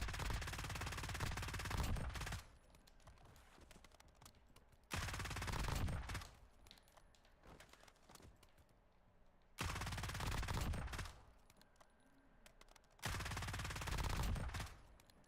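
Warzone video game gunfire: long automatic bursts of several seconds each, loud and dense, separated by quieter gaps of game ambience, with no talk.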